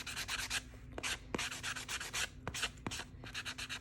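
Sanding block rubbing along the edges of a resin coaster in quick repeated strokes, a dry scratchy rasp in short bursts with brief pauses, close and fairly quiet, no talking.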